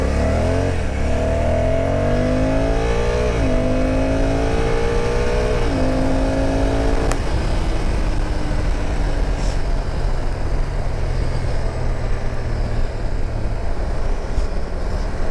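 A Honda RT 1100 DCT motorcycle accelerates hard in automatic drive on an open road, its engine rising in pitch through several shifts. Steady loud wind roar carries on after the engine note fades.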